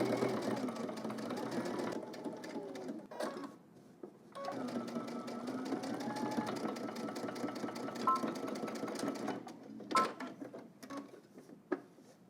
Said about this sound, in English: We're gonna stitch, edge stitch all the way across and then up to the other side